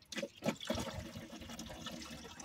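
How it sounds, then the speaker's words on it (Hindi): Water is poured into the windshield washer tank of a Duster car during servicing, a close gurgling splash with a few quick bursts followed by a softer trickle. "इसका वाइपर में पानी डालेंगे"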